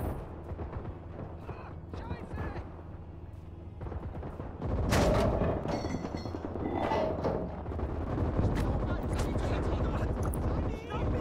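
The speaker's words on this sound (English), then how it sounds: "Where's that machine gun fire?" Gunfire and explosions in the World War II game Gates of Hell, set in a German last stand in Berlin: dense, loud battle noise with shots and booms, growing heavier halfway through, while a player talks over it.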